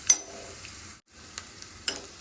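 Cumin, garlic and dried red chili fry in hot oil with a soft, close sizzle and scattered scraping clicks of stirring.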